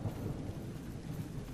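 Steady rain with a low rumble of thunder in the fantasy video game Neverwinter, a dense, quiet, continuous wash of noise with no talking.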